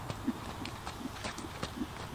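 Horse trotting during a riding competition warm-up, hooves clip-clopping in a steady, light rhythm of distinct footfalls, fairly soft and close, with no talk over them.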